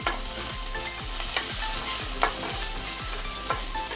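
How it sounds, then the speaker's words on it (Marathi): Crushed garlic and ginger sauté in a pan over medium heat for samosa chutney, giving a steady close sizzle broken by regular scraping stirs about every half second, with no talk. "थोडंसं लसूण आणि थोडंसं आलं हे क्रश केलेलं आहे ते आपण टाकून देऊया"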